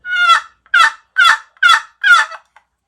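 An old-style turkey hunting call is sounded five times in an even rhythm, each note a loud, close, raspy yelp with silence between them.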